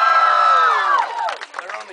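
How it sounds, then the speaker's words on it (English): A crowd cheers and whoops loudly at a LAN gaming event, a dense wall of shouting voices that swells at first, then breaks into scattered, fading yells. "They're only cheering because you're on the phone."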